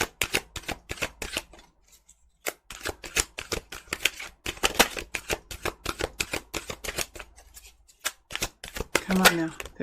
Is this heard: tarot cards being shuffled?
yes